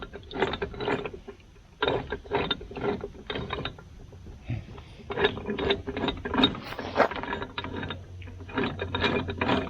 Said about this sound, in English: You can hear this one is rattling, this shaft.